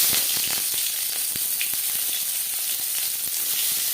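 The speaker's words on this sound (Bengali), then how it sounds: "দু চামচ তেল গরম করে নেওয়ার পর দিয়ে দিলাম পেঁয়াজ কুচি" Chopped onion hits two spoons of hot oil for egg bhujia, giving a bright, continuous sizzle with frequent sharp crackles and pops, close and steady, with no talking.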